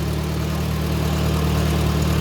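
A 1954 IH McCormick Farmall Super C tractor engine idling, steady low rumbling chug heard close up with no talk over it.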